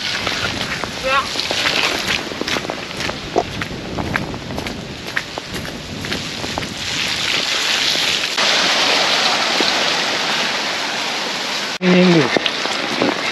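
Rain falling during the Cape Epic mountain bike race, a steady hiss of drops with scattered sharper patters, growing denser toward the end, with brief human sounds near the close.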